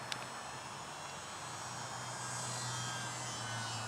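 E-Flite UMX Timber micro RC airplane flying over grass, a thin continuous electric motor whine held at a fairly steady pitch, faint and distant, with no talking.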